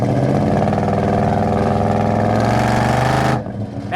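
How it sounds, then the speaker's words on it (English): A 1971 Chevrolet C10 pickup with a 350 V8 and 700R4 transmission, its exhaust giving a loud, steady, deep rumbling drone close by, then dropping off abruptly near the end. "that exhaust note is great"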